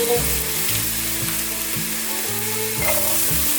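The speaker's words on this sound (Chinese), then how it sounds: "快速的翻炒，大略炒一下" Carrots, mushrooms, peppers and tomato stir-fry in a wok with a loud, continuous sizzle broken by rhythmic scraping and tossing strokes at close range, and nobody speaks.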